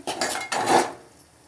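A spoon clinks and scrapes against a cooking pot while turmeric is stirred into freshly roasted masala for Maharashtrian kadhi. Two close, clattering bursts come in quick succession, then fade out.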